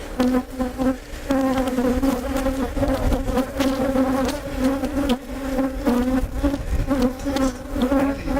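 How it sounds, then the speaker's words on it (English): Steady, dense buzzing of many bees swarming close by a bee vacuum in use, continuous and loud with a droning hum throughout. "look at those bees back there"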